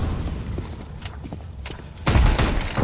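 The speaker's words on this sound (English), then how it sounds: "I'm throwing a grenade" A grenade explodes in a video game, a loud low boom bursting in near the end after scattered thuds and gunfire-like pops.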